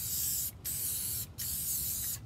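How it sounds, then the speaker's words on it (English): Spray adhesive hisses from an aerosol can onto sandpaper in three steady, close bursts separated by short pauses, with no one talking. "you don't want to spray glue on it"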